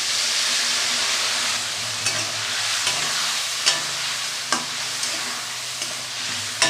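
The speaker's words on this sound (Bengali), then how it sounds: "এবার ভালো করে নাড়াচাড়া করে" Soybean curry with spices, tomato and water stirred in a pan, a steady sizzling hiss with a few sharp spoon scrapes and clicks spaced through it, close and fairly loud.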